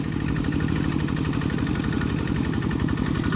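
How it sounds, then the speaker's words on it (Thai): A farm tractor ploughing a rice field runs at a steady low chugging idle, close and continuous with a regular throbbing pulse and no talk. "ซิมอนขับรถไถพอเฒ่าซีพี่น้อง"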